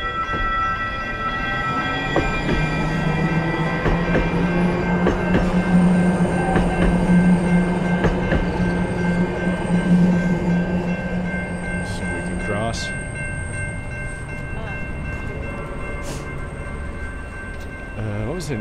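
Light rail commuter train passing through downtown Charlotte, a loud, sustained rumble of wheels on track with a horn-like tone and metallic squeal, close by with city ambience.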